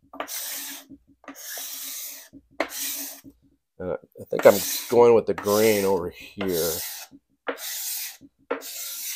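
Card scraper strokes rasp across a white oak surface in short bursts of dry scraping, some alone and some under someone speaking nearby.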